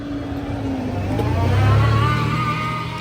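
A hypercar engine runs nearby at a car show, a rising, steady motor note that swells and then eases slightly over a few seconds, heard alone without voices.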